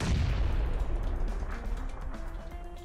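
A grenade bursts in midair in PUBG, giving a loud, booming blast right at the start that rolls off into a long rumbling tail, with faint game noises underneath.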